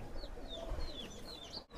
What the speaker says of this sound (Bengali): এটা হচ্ছে আপনার গোল্ডেন কবুতর